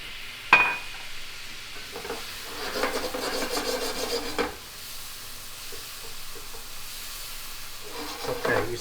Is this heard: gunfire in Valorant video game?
no